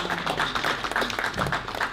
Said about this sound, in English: A round of applause for our own Dr.